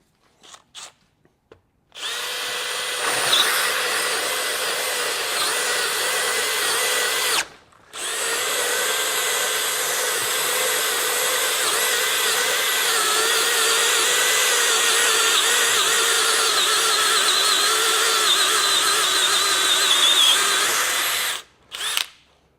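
A Hercules hole saw bit spins in a power drill and cuts steadily for about twenty seconds, loud and close, with one brief pause partway through and no talking.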